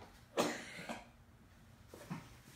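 A child congested with mucus lets out a few harsh coughs, two close together then another after a pause, near and fairly quiet.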